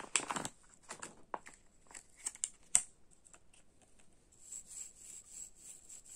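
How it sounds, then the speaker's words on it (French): An ergonomic nail brush scrubbing gives quiet, scratchy bristle strokes in irregular bursts, close and dry, with a brief lull in the middle before a steadier stretch of rubbing. "Fini les impuretés sous les ongles et les taches sur la peau qui ne partent pas avec cette brosse à ongles ergonomique."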